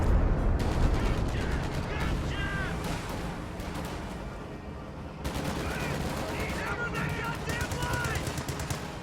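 Battle in a World War II strategy video game, with dense bursts of machine-gun fire and booming impacts from a Stuka dive bomber's bombing run, sustained and loud with a brief lull midway.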